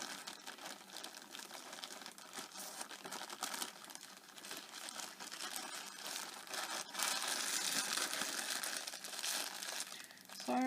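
Yarn packaging rustles and crinkles close up, with a continuous crackling that swells louder toward the end.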